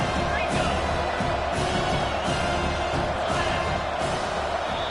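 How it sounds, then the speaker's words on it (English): A football stadium crowd roars in a steady, loud, dense wall of noise with rhythmic surges, filling the whole clip under a commentator's voice. "the crowd forces a false start."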